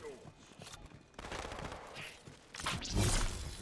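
Shotgun fire in the Halo 2 video game, a burst of gunfire and a louder, heavier blast near the end, mixed with game effects and a brief whoosh.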